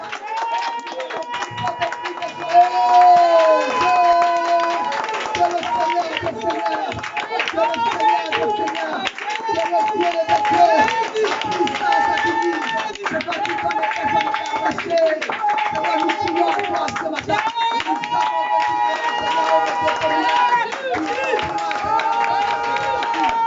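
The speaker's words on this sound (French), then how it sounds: "On va acclamer notre Seigneur." A church congregation claps and cheers in praise of the Lord, steady rhythmic handclaps running throughout with voices singing and calling out over them, loud and close.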